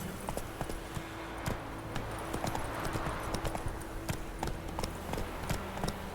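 Horse hooves in The Witcher 3 beat in a fast, steady gallop, a continuous run of crisp clip-clops with little else around them.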